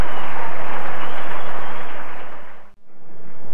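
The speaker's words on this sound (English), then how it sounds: "Standing ovation." Cricket crowd applauding in a standing ovation for a batsman's century at a Karachi World Cup match, a dense, loud wash of clapping and cheering that fades away near the end.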